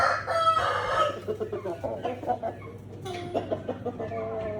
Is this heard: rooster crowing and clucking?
yes